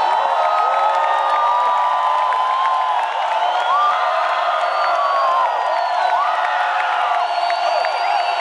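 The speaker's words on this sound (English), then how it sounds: "noisy crowd, noisy." A large, noisy university crowd cheers and whoops continuously at a steady, loud level, with scattered shouts rising above the roar.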